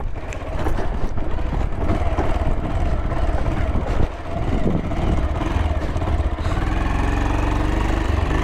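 A motorcycle engine runs on a village road, a loud, close, steady mechanical drone with a brief dip in the middle, then the engine cuts out near the end and only faint ambient sound remains.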